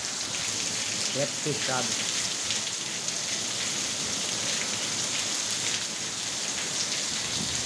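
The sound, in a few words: heavy rain with lightning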